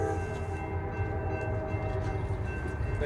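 A freshly painted locomotive passes in Ashland, Kentucky, producing a loud, continuous diesel drone with a steady engine hum and faint rail noise, heard up close for a few seconds.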